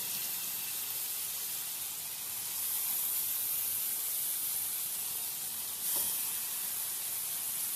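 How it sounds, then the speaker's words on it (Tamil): Small fish sizzling in oil on a flat iron dosa griddle, a steady broadband hiss holding even throughout with a brief crackling burst near the end. "பாருங்கள் ஃப்ரெண்ட்ஸ், சூப்பராக ஃப்ரை ஆகிட்டுருக்கு."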